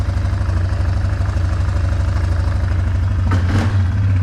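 A Yamaha Wolverine 350 ATV engine idles steadily and close by, a low, even thrum holding throughout with a brief blip of extra noise near the end.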